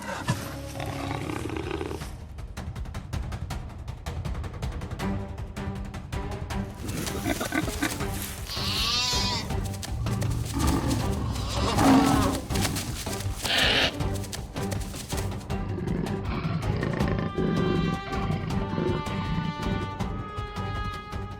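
A lion roars over a dense documentary soundtrack, with loud sustained growling and swelling bursts amid music and other wild animal calls throughout.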